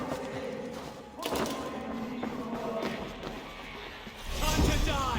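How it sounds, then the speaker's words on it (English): Battle noise from the Assassin's Creed Valhalla video game: heavy thuds and crashing impacts scattered across the clip under a busy mix, with a louder surge near the end and voices talking. "You hear that? The sounds of battle."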